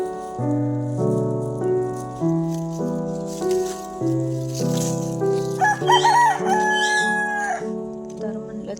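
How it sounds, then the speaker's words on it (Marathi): A rooster crows repeatedly at close range, long drawn-out calls in sequence with a few clucks mixed in near the end, heard alone without talk. "बघा हे कोंबड्याला कसं वरडतोय"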